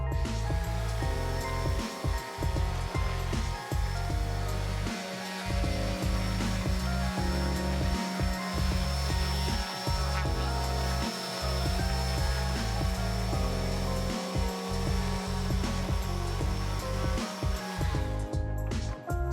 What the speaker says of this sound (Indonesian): amplas kembali permukaan hasil pengerjaan dempul